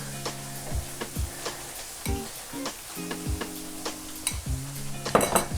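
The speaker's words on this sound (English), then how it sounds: "I'm just going to plate the rice" Cooked white rice being scooped from a rice cooker and plated alongside salmon, with a utensil knocking and scraping against the dish. A series of soft clinks and taps recurs at an irregular rhythm, close and fairly quiet, over a steady low kitchen hum.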